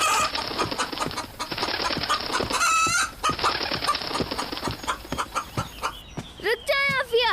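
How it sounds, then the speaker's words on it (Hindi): A cartoon rooster and chickens cluck and squawk excitedly close by, with a loud rising crow-like call midway and more squawking near the end, while people talk over it. "रुक जाए आफिया, आप क्यों तंग कर रही हैं इस बेचारे मुर्गे को?"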